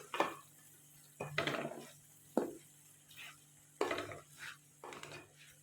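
A spoon works through tikka keema masala, half a kilo of minced meat with tikka spice, in a pan. Quiet scraping strokes come in separate bursts with short pauses between them.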